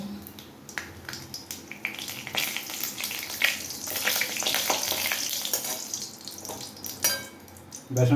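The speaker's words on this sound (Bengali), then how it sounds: "ফার্স্ট এখানে দিচ্ছি আমি জিরে ফোড়ন আর গোটা গরম মশলা নেই তেজপাতা গোটা জিরে দিলাম" Cumin seeds and whole garam masala with bay leaf sizzle in hot oil, producing a continuous crackling fry with scattered pops and occasional clinks of a utensil against the pan, plus brief faint voice near the start and end.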